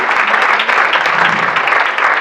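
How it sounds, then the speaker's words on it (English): Educators at a professional development event give themselves a round of applause, a brief burst of steady, fairly loud clapping from a room full of people. "So give yourselves a round of applause."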